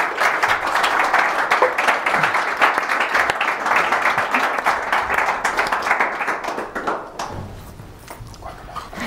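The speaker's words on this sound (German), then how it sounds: "Mit einem herzlichen Applaus." An audience gives a warm round of applause to welcome a guest at a photography talk event, dense clapping that holds strong for several seconds, then thins and fades out near the end.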